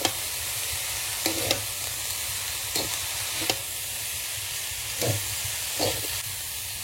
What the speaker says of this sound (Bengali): এবার বাঁধাকপিটা ভালো করে ভেজে নেব।